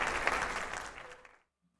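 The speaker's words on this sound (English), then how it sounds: "Everyone start clapping." A short burst of applause from a small group, steady at first, then thinning and fading out quickly into silence.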